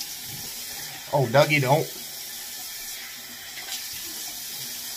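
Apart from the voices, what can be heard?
water running from a tap while rinsing after shaving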